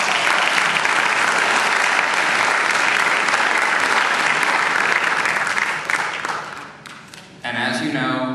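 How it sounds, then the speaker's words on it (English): Concert audience applause at the Young Turks concert, dense sustained clapping that fades out, followed by a brief pause and then a voice speaking. "So, round of applause for them."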